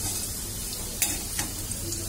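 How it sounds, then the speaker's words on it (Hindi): Small cut potato pieces fry in oil with an even close sizzle. A couple of light utensil taps sound over it, and no one speaks. "मैंने छोटे छोटे आलू कट कर लिया है और उसको तेल डाल करके उसको मैं भून रही हूँ"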